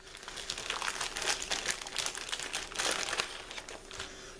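Plastic packaging bags from a Flames of War Russian T-34 Battalion box crinkle and rustle close to the microphone in continuous bursts, with no one speaking.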